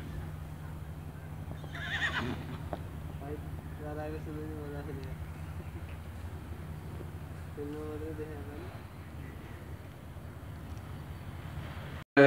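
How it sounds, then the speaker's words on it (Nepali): A horse at a horse breeding center gives a few whinnies, one near the start and another later, over a low steady hum, while people speak quietly in the background. "सुरुमा छिर्ने बित्तिकै लेफ्ट साइडमा एउटा घोडा देखियो, त्यो घोडासँगै एउटा बच्चा पनि देखियो."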